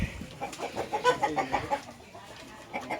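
A Dark Mahogany gamefowl rooster on a farm clucks in a quick run of short, close, moderately loud calls, then quiets before a few more soft clucks.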